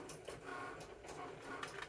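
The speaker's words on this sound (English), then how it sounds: "you can hear the Cricut going in the background" A Cricut cutting machine runs in the background with a steady mechanical whir and faint motor hum, a few light clicks and carriage movements rising over a constant low drone throughout.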